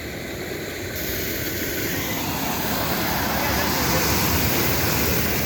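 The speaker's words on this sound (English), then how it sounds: "We have our own little river going on right now." Floodwater rushes down a street after a thunderstorm in a loud, steady roar that swells slightly over the few seconds, close to the microphone.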